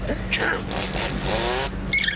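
Voice imitating a duck riding a motorcycle as it accelerates, a buzzing, rising engine-like vocal drone, close and fairly loud, with brief squeaky bursts at the start and end.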